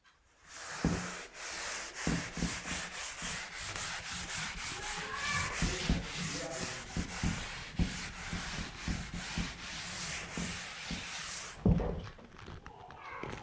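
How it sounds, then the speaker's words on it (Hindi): Steady scratchy rubbing of an eraser or hand on paper during a geometry lesson, continuing for several seconds with uneven strokes, close and moderately loud, with faint speech briefly in the background. "अब इसके बाद हम इसे रब करते हैं"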